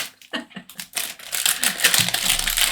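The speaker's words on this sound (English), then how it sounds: "I'm going to use the scissors and try and get in swiftly." Scissors snip and slice into crinkly, wrinkled wrapping paper on a parcel, giving close, loud crackling and rustling with short cutting bursts that build into a continuous papery crunch.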